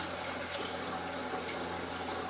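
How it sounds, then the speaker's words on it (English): Water running steadily into a pot being filled about halfway to cover eggs for hard boiling, a continuous close rushing hiss with no talk. "we're going to fill it up just about halfway, basically just enough to cover the eggs with water"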